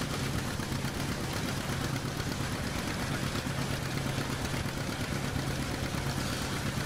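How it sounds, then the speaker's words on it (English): Tractor engine running steadily in the farming video game Farming Simulator 17, a continuous droning hum with a low tonal drone, constant level throughout with no talk. "This tractor is kind of loud."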